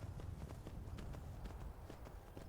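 Horse hooves clip-clop at a steady walking rhythm in the video game Skyrim, a muffled, evenly paced patter under a constant low background, with no talking.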